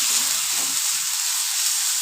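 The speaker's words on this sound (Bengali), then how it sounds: "হলুদ গুঁড়োটা মশলার সাথে কষিয়ে নেব।" Turmeric powder frying with ginger-garlic spice paste in a pan gives a steady, close sizzle and hiss that holds evenly throughout, with a faint stirring scrape early on and no talk.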